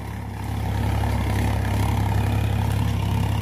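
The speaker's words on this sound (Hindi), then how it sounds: "पहले के हाई में 1300 चक्कर पर चलता हुआ है ट्रैक्टर इस टाइम" A Sonalika DI-50 52 HP tractor with a 3067 cc three-cylinder engine runs in high gear at about 1300 rpm in a field, a steady droning engine hum that swells slightly and holds constant, with no talking.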